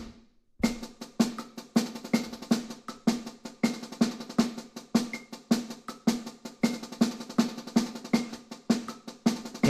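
Drum strokes in a fast, steady stream of sharp hits grouped in fours over eighth-note pulses, close and dry with no talking.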